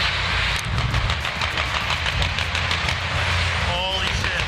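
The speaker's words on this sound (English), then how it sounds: "someone shot some video of some of these choppers, military-style choppers, flying over 395 in downtown" Military-style helicopters fly over Interstate 395 in downtown, giving a loud, continuous engine and rotor roar with a steady rapid pulsing throughout.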